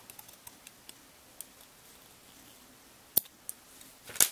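Scissors snip through the end of a hemp string, giving a couple of sharp, close clicks near the end after a quiet stretch of faint ticks and small handling noises.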